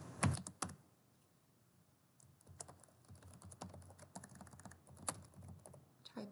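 Quiet typing on a computer keyboard, irregular clusters of soft key clicks with a louder tap near the start and short pauses between bursts, close and alone.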